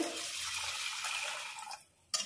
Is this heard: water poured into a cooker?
yes